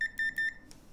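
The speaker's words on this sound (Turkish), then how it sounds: "Can you put it on the beeping sound?" A multimeter in continuity mode beeps: three short, bright, high-pitched beeps in quick succession, close and clear, followed by a faint click.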